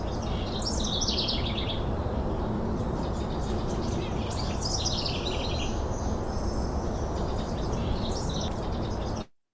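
A house wren sings close to the microphone in an outdoor field recording, its bright bubbling song phrases repeating loudly in the foreground over steady background noise.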